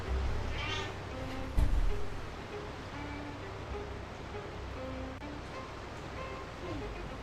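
A pet cat meows to be let outside, short faint cries over a steady background hum, with a person talking nearby.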